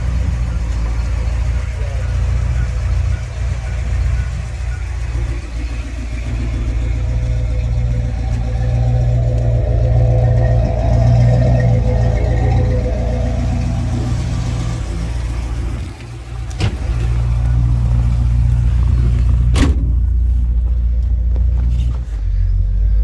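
A 1972 Oldsmobile 442 convertible's 455 V8 rumbles steadily with a swell in revs partway through, heard from inside the car while people talk over it.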